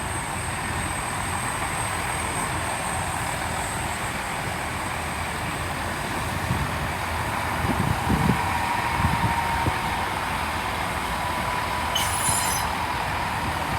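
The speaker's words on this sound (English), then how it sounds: "It is a pairing of turbos coming in." A pair of Turbo diesel units arrives at Bristol Temple Meads station, a steady rumbling roar with a rising rush of movement and a faint high wheel squeal near the end, no talk.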